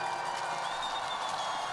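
A distant, steady crowd roar of cheering and applause at the Sochi 2014 Paralympic Winter Games as a sitting cross-country skier sets off in the women's 12 km race, faint and continuous.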